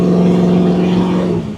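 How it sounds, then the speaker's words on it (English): A 1968 Chevrolet Camaro engine with Flowmaster muffler exhaust drones loud and steady with a deep tone, holding even before easing off at the end. "Has a really nice set of exhaust on it. It's got some Flowmaster muffler, so it sounds great."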